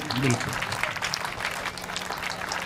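Audience clapping at a Hindi poetry and comedy stage show, a modest, steady patter of hands with a brief voice heard early on.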